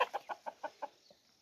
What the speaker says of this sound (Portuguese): As galinhas aí ó, comendo os pão que nós acabamos de jogar.